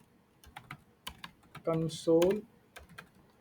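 Keys tapped one at a time on a computer keyboard in sparse, irregular clicks, with someone speaking briefly between them.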